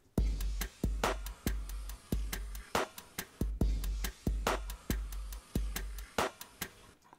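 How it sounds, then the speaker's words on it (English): A solo drum track plays alone with no other instruments, its kick and snare hits landing in a steady, punchy groove with sharp, close transients and short decays between them. "And then we have a drum track on its own."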